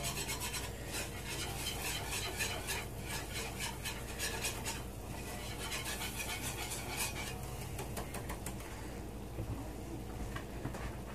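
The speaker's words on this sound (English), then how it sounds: "Turn it down, it's starting to burn. Just keep whisking." Steady scraping and rasping of a whisk stirring melted butter in a pan for a Cajun pineapple upside-down cake, continuous and close with faint sizzle underneath, no talk.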